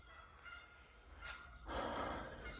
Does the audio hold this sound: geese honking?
yes